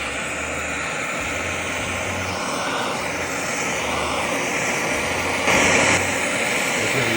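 A fume extraction fan runs during silver casting, drawing in smoke as a constant, loud, droning roar that stays even across the whole stretch.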